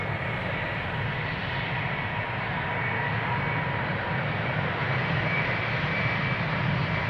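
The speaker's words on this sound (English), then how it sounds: "Meanwhile, taking off to Glasgow, KLM flight 939." KLM flight 939 takes off from Amsterdam Schiphol bound for Glasgow, a steady jet engine roar at moderate distance that grows slightly louder and holds unbroken, with no voices.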